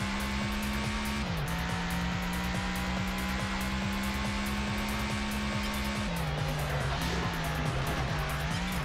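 A steady car engine drone in Test Drive Unlimited on PS2 holds a constant pitch with a rhythmic ticking pulse, shifting gears twice, fairly loud and continuous throughout.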